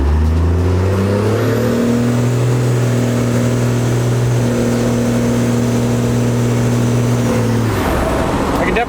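A GMC truck engine fitted with an HX35 turbo and a plugged wastegate revs hard, loud and close, its pitch climbing and holding steadily before cutting off abruptly near the end.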